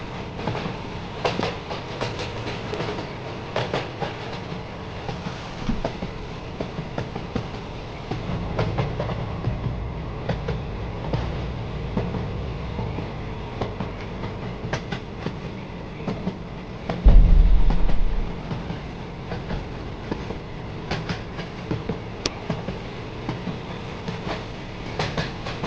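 Riding inside a moving passenger train brings a steady low rolling rumble with faint rhythmic clicks of the wheels and one brief louder thump partway through.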